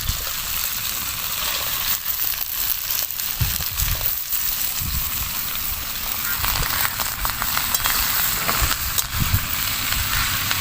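Chopped onion, slit green chilli, diced brinjal and onion stalks frying in a pan for a village-style chorchori, a steady close sizzle with scattered stirring knocks and crackles, no voices.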